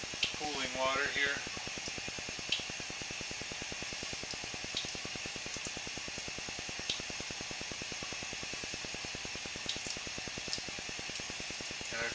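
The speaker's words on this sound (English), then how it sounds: "And we've got our cooling water here." Cooling water running steadily through a sewer pipe, a constant low trickle and rush heard from inside the line, with a brief burst of faint voice-like sound near the start.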